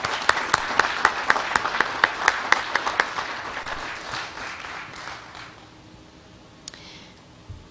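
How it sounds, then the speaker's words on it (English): Crowd applause at a Lewis and Clark Bicentennial celebration in Fort Benton, Montana, led by sharp individual claps early on, then thinning and fading out over several seconds. "Let's give her a round of applause"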